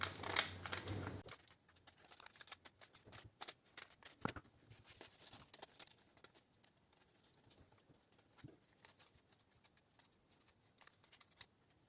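Quiet snipping of scissors through paper while cutting out forms for Easter bread, a quick flurry of cuts at first and then sparse, soft clicks and rustles close by.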